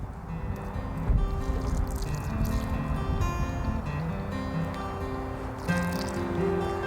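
Water is poured from a container onto the soil around a newly planted tomato transplant in a garden, giving a steady splashing, trickling gurgle for several seconds with no talking.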